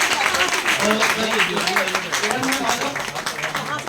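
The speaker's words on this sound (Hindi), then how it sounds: "तालियां बजती रहनी चाहिए, जबरदस्त तालियां।" Audience applause rings out at a company new year celebration, many hands clapping under a loud voice talking over the top, with music-like tones mixed in throughout.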